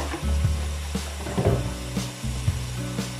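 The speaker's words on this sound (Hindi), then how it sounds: "अब हम इसको अच्छी तरह से भून लेंगे।" Spices and masala being fried for a chicken and chickpea pulao, a low sizzle broken by several sharp scrapes and clacks of a spoon against the pan.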